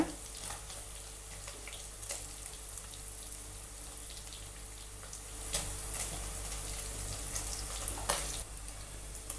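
Paneer fries in ghee in a pan with a faint, steady sizzle and occasional soft crackles and louder spits, heard close and continuous.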